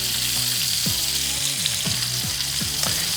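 Pasta sizzles loudly in a frying pan, a steady hiss of frying broken by repeated scraping strokes as it is stirred, close up with no talking.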